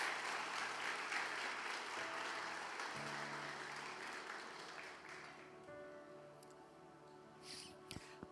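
A church congregation applauds at a worship service, dense clapping filling the first five seconds and then fading, with organ or keyboard chords sustaining underneath and a few scattered claps near the end.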